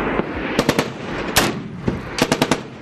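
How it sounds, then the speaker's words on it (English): Bursts of gunfire from Taliban fighters on mountain slopes, loud and sharp, coming in rapid clusters of several shots with short pauses between them. "The Taliban open fire, exposing their positions on the mountain slopes."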